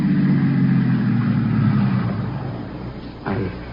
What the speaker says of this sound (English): Now, there's a car out there.